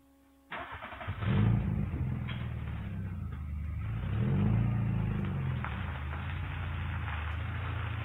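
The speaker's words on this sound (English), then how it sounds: "he stops the car all of a sudden and goes into reverse and steps out of the car" A car engine starts abruptly and then runs, revving up and settling into a steady mid-pitched drone as the car moves, loud and close, with no voices.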